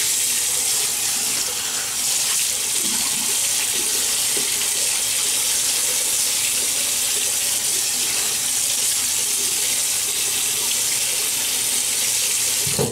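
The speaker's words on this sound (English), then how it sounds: "so let me wet the face" A water tap runs steadily into a sink to wet the face before a shave, a continuous close splashing stream with no talk over it.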